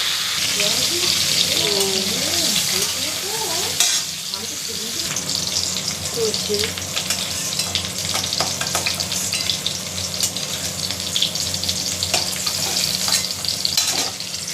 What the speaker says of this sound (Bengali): ভালো করে ভেজে নেব, লাল লাল করে।